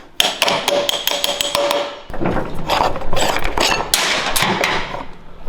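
Rapid metallic hammer strikes ring out in a quick series while working on a Coleman B200RSV minibike's forks, then give way to denser clanking and knocking of tools, loud and close.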